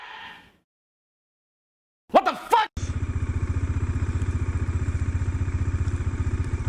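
A Bajaj Dominar 400 motorcycle coasts in neutral through heavy snowfall near Kufri, Shimla. After a brief thump and clatter, its engine settles into a close, steady, rhythmic thumping idle.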